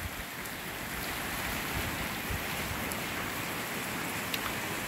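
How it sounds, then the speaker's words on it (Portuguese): Light rain falls steadily on a street and avenue in Guajará-Mirim, Rondônia, during a passing late-winter shower, a constant broadband hiss with no voices and only faint, scattered spikes. "Mas ainda continua chovendo"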